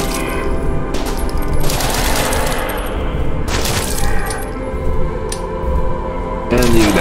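Rapid bursts of gunfire crackle through a horror video game, coming in dense loud clusters with short gaps between them.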